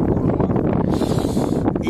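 Wind blows steadily at sea off Cap Béar on a sailing passage from Portbou toward Leucate, a broad buffeting rush against the microphone that fills the short stretch without any voices.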